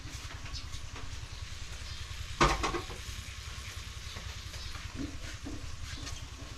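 Garlic and onion sautéing in a pan, a quiet, steady sizzle with one brief louder clatter of a utensil partway through.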